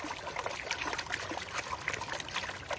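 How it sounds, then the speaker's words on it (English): Water trickles and splashes steadily as lode-gold material is lightly washed out of a gold pan while panning near abandoned mines, a continuous close dribbling with small splashes and no talk. "Lightly wash that material out, bring it back in the pan."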